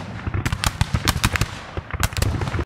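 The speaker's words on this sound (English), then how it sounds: "Men, open fire!" Musket volley gunfire in the Napoleonic battle game Scourge of War: Waterloo, a rapid ragged crackle of many overlapping shots firing in two bursts, loud and dense with no speech.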